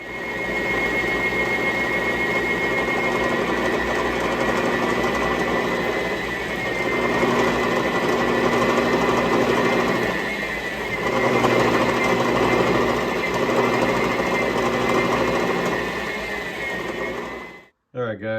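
A lathe spins a workpiece with a ball bearing pressed against it, producing a loud, continuous whirring grind with a steady tonal whine that holds for most of the clip before cutting off abruptly near the end.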